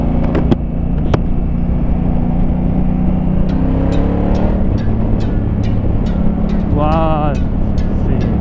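Honda Africa Twin 2019 motorcycle pulling hard at full throttle from low revs, a steady loud engine drone with rising harmonics near the end, ridden on the road with wind noise throughout.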